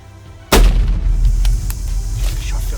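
A single loud, close rifle shot cracks out during a bull hunt in Africa, followed by a rumbling echo and low outdoor noise.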